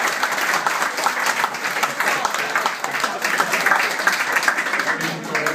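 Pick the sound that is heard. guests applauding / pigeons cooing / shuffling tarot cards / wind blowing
guests applauding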